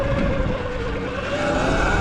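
A Surron electric dirt bike fitted with a Torp TC500 controller accelerates, giving a steady, loud motor whine with rising tonal hum that holds throughout, close and continuous.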